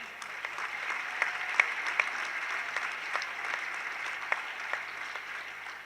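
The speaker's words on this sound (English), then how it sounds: "if we can get a round of applause for Glenn" A gym crowd at a charity high school basketball event claps for a ticket donor, a moderate, even patter of hands with a few sharper claps standing out.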